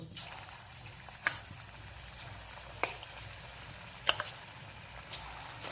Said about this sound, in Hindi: अब इसमें डालने जा रहे हैं, एक एक पीस करके डाल देंगे, इसको फ्राई कर लेंगे।